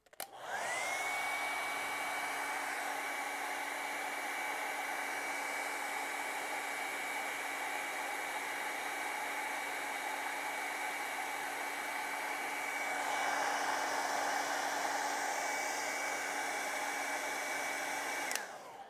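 A hair dryer blows steadily for about eighteen seconds, drying wet watercolor paint on paper; a loud, even whir with a constant motor whine, rising slightly in intensity near the end before switching off.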